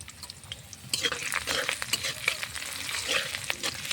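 Vegetables fry in mustard oil in a pan, a close, crackling sizzle with scraping stir strokes that get busier after the first second. No one talks.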